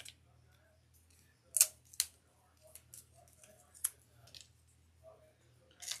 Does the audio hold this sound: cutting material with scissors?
yes